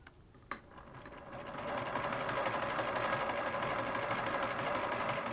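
A Singer 32-1 sewing machine converted to a hand crank stitches fabric with a steady, fast mechanical chatter that builds after a brief start and keeps a constant rhythm, fairly close.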